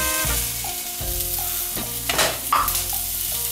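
Sausages and peppers sizzling uncovered in a breakfast skillet, a loud continuous fry with periodic scrapes and knocks of a spoon as they are stirred; a steady musical tone runs underneath.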